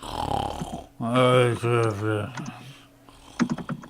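A voice imitates loud snoring: one long rasping, harmonic snore of about a second and a half, followed by a few short breathy sounds.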